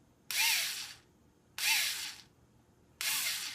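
A fully charged cordless power drill spins up in three separate bursts, each lasting under a second, with short pauses between them. The drill is close and loud, and no one speaks.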